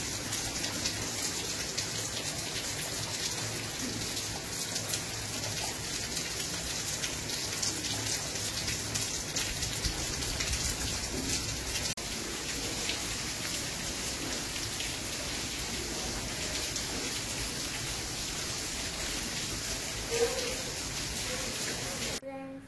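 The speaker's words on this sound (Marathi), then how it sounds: "मस्त मस्त पाऊस चालू आहे बाहेर" Steady rain falls outside a home, a constant close hiss of drops on surfaces with no breaks, while people talk quietly over it at times.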